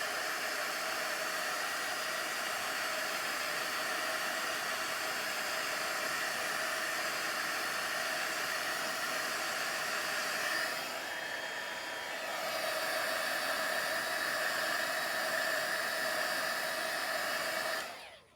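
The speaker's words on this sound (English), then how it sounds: "I hit that one more time with my heat gun." A heat gun blows a steady, loud airy roar on an art piece, running continuously with a brief dip in the middle before it resumes and then cuts off at the end.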